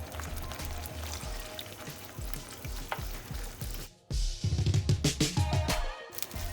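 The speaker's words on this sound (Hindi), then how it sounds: "थोड़ा सा पानी डालूंगी इसमें।" Chicken and gravy sizzle and fry in a pan, then water is poured in, producing a sudden louder burst of hissing and bubbling.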